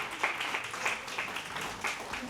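A church congregation applauding during a worship service, a soft, steady patter of clapping from many hands, moderately distant and fairly quiet throughout.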